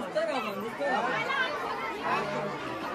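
A crowd gathered around the tiger enclosure at Rani Baug zoo in Mumbai makes a dense, continuous murmur of many overlapping voices, close and steady throughout.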